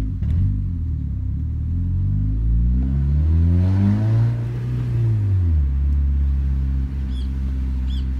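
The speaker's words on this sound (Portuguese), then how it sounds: "Tirando o abafador, ele fica com mais grave depois que o motor esquenta." A loud, deep Honda Civic engine with no muffler rumbles close by, its low drone rising and falling as it is briefly revved, with no talking.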